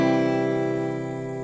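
One guitar chord is strummed with correct fingering, ringing out clearly and decaying slowly over about a second and a half, alone with no voices.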